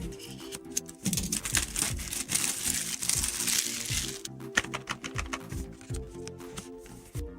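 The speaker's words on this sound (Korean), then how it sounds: "언박싱 해보도록 하겠습니다." A cold cardboard box holding a Tornado V3 speed cube, the flagship magnetic-core version, is handled and opened up close, with irregular crinkling, rustling, tapping and scraping sounds in quick bursts.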